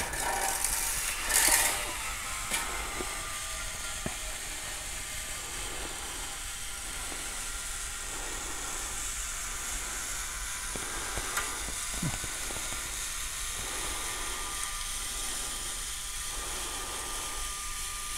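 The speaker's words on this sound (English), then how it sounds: "We're just letting it slice through and we're not forcing the hot wire through." A hot wire cutter slowly slicing through polystyrene for a mosaic project gives a steady, faint hiss and sizzle with soft periodic scraping, continuous and close, with no talking.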